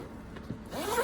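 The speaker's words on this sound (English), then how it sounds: "I love the zipper, you can just open it up with one hand." A zipper on a fabric worm breeder bag holding African nightcrawlers is pulled open with one hand, a short close rasping zip rising in pitch near the end.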